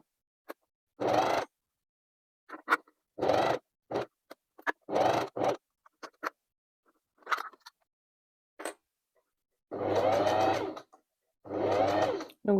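A sewing machine stitches around the edge of a sponge pouch, about 1 cm from the border, in short separate runs of rapid needle clatter with quiet pauses between bursts, close and clear with no talking.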